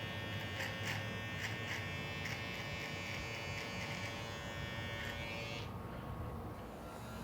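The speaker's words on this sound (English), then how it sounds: "this clipper, it's this really small blade" A small electric beard clipper with a tiny blade buzzes steadily up close, a continuous motor hum with a repeated rhythmic pulsing as it works through the beard, then eases slightly near the end, with no talking.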